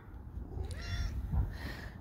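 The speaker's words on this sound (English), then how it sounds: "What do you want, kitty cat?" A cat meows twice at close range, each a short rising-and-falling call, over a low steady background rumble with no talking.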